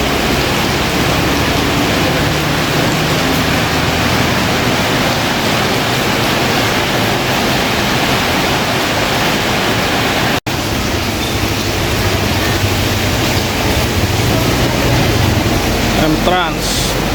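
Heavy rain drums steadily on the outside of a moving Sinar Jaya bus travelling between Malang and Jakarta, a dense continuous wash that stays loud throughout, broken only by a brief knock near the end.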